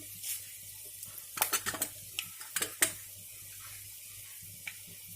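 Peanuts and dried chillies frying in oil in a pan for tempering, heard as a faint background sizzle broken by a cluster of soft crackles and stirring clinks in the middle.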